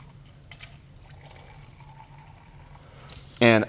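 Small splash of water poured into a glass holding calcium chloride, a brief loud burst coming only at the very end after quiet room tone and faint clinks.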